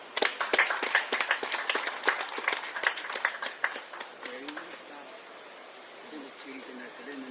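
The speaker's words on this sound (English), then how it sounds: "I think the Honorable Minister deserves another round of applause" An audience applauds after a minister's speech at a launch of solar-powered plants for government hospitals. Dense clapping fills the first few seconds, then thins and fades as a voice begins speaking.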